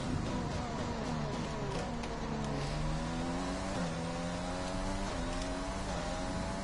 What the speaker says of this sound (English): Particularly the start-up noise in the garage